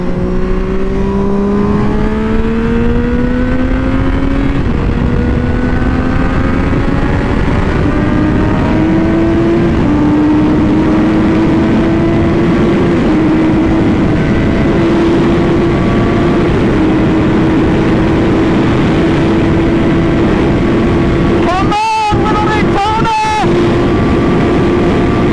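A Triumph Daytona 675 motorcycle engine howls at full throttle, loud and close, its pitch climbing steadily through the gears amid heavy wind rush, with two brief dropouts near the end.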